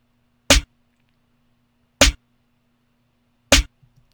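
Three punchy, low-tuned snare hits land alone at an even, slow pace, each short and sharp over near silence.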